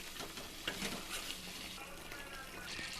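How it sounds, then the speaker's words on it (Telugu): Curd, tomato paste and onion paste are stirred together in a pan, a soft, steady sizzle with scraping stir strokes and faint utensil taps, close but fairly quiet. "కర్డ్ వేసుకొని మిక్స్ చేసేసుకోవాలి."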